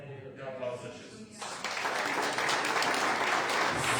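A church congregation breaks into applause during a sermon, the clapping swelling abruptly after a voice and then continuing as a full, steady burst.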